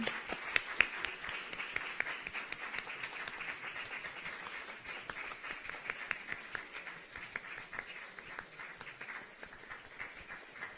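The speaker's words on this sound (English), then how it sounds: "please give another round of applause as the Director General makes her exit" Audience applause at a UNESCO youth conference as the Director General exits, a steady, moderately distant patter of many hands clapping that lasts about ten seconds at fairly low volume.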